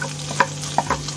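Garlic fries in a pan for tteokbokki: a soft background sizzle broken by a few quick scraping stir strokes, close and brief.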